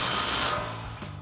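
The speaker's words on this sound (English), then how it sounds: "we can tighten it back down with our 19mm socket and extension on our impact" An impact wrench with a 19mm socket and extension spins down a tie rod castle nut on a Tacoma, a loud close burst of high whirring rattle that cuts off abruptly, followed by a brief shorter buzz.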